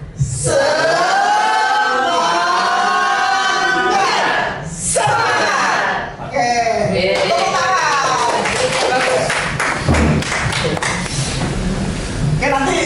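An audience of teachers at a school dissemination session performs a rhythmic spirit clap, sharp patterned claps mixed with loud chanting voices, steady and close with two short pauses partway through.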